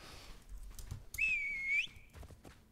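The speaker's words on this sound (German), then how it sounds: "Ist gut gemacht da mit dem" A single clear, wavering whistle lasting under a second in the Soulmask survival video game, heard alone over faint background game ambience.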